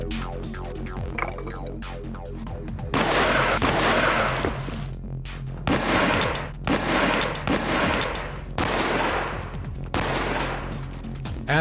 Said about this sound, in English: Each side will be shot at from point-blank range with this reproduction cannon.